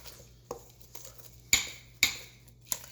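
A spoon knocking and scraping against a bowl while mixing homemade chewy chocolate chip cookie dough, a few sharp clinks spaced apart, close and fairly faint.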